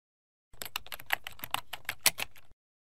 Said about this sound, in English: Keyboard.